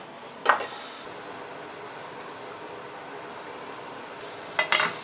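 Butter melting and sizzling in a pan on the stove, ready for searing cut abalone, a steady soft crackle running throughout with two brief louder clatters near the start and end.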